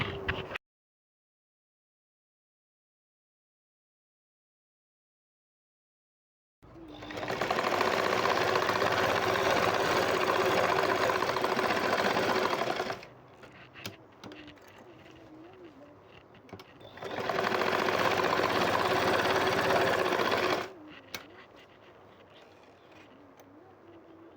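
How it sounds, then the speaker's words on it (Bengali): A sewing machine stitches a frilled Naira-style borka, running in two long steady whirring bursts separated by a quieter pause with faint handling sounds. "পাশ দিয়েও আমি এভাবে পাঁচ ইঞ্চি নিচ থেকে সেলাই করে নেব"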